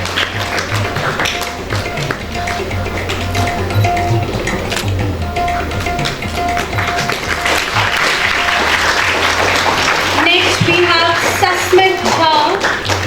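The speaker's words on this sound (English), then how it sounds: "Please give them a big round of applause" An audience at an award ceremony, Medha Manyata Divas 2023, applauds loudly and continuously, a dense wash of clapping that swells slightly toward the end, with a voice faintly audible underneath.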